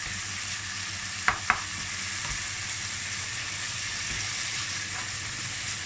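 Spicy sauce stir-fried in a pan for a steamed rice-wrapper dish with minced pork and bamboo shoots: a steady, loud sizzle runs throughout, broken early by two sharp utensil taps against the pan.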